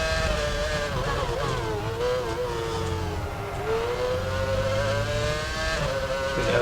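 A Formula One car's engine in the F1 Championship Edition racing game at the Hungary circuit, a steady high-pitched whine that dips slightly as the throttle is lifted through a fast corner, then climbs again, continuous and close.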